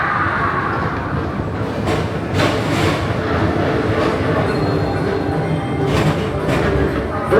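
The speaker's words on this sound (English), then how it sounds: "your express train keeps on rolling through the future" Disney World PeopleMover ride car rolls steadily along its track at night, a continuous close rumble of wheels with occasional clicks and squeaks throughout.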